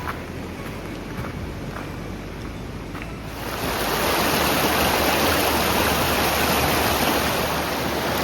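Rushing water of the river on New Zealand's Motatapu Alpine Track fills the scene, growing louder and fuller partway through as if wading deeper into a strong, icy flowing current.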